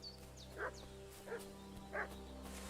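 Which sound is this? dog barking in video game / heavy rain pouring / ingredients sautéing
dog barking in video game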